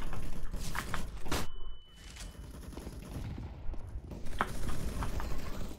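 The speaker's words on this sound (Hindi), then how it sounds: "अरे भाई गोली चला रहा" Gunfire in a tactical shooter game: several sharp, loud bursts of shots up front, a quieter stretch, then another cluster of shots, with background game noise throughout.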